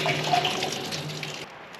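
A small tap at a mountain refuge runs steadily, a constant close splash and gurgle of water that fades out near the end, with no one speaking.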